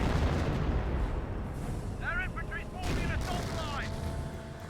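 An artillery barrage in Company of Heroes rumbles as a dense, continuous low thunder of shelling, with faint high chirping game sounds briefly rising over it.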